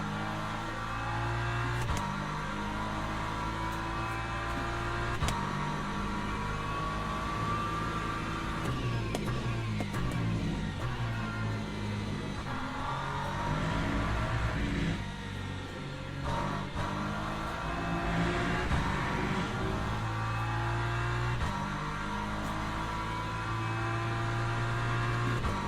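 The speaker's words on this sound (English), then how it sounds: "LMP2 coming through" An LMP2 race car engine screams past in the Le Mans Ultimate racing game, a sustained high-pitched whine with repeated pitch climbs and drops as gears change, loud and steady over the full stretch.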